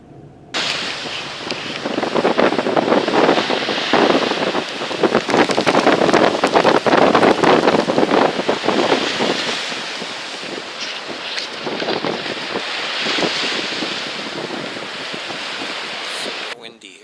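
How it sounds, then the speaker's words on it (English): Strong gusting wind roars across the microphone at a flooded seaside bay, a loud continuous rush with surf and water noise beneath it, easing slightly toward the end. "Super windy here today."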